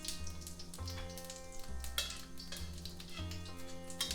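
Cumin seeds sizzle in about two tablespoons of hot oil, a soft continuous crackle sitting under a steady background music bed.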